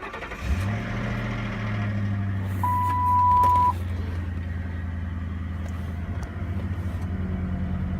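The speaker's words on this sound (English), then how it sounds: "The AC and heater work. You can hear the compressor." Idling Ford Crown Victoria with digital dash and working AC, the air-conditioning compressor adding a steady low hum over the engine after it catches, with a brief higher whine partway through.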